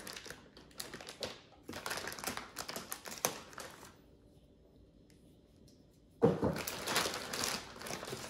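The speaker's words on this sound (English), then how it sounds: "Cut some tape." Packing tape is cut and torn on the box of an APC BR1500MS2 backup battery. Crinkly, rasping bursts come in clusters, a quiet lull follows, then one more loud tearing burst.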